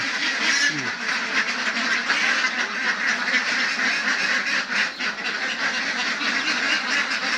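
A flock of ducks on a farm quacks continuously and loudly, many overlapping calls forming a dense, raucous chorus close by.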